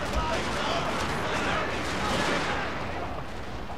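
Continuous video game battle gunfire in a strategy war game, a dense, steady roar of massed musket and artillery shots with no clear gaps, loud throughout, with voices faintly under it.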